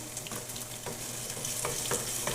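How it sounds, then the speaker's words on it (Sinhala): Ginger garlic paste fries in a little oil with a continuous close sizzle, punctuated by a few soft scraping stir strokes; no talking. "ඊට පස්සේ එකතු කරගන්න ඕන ඉඟුරු සුදු ලුණු පේස්ට් එක"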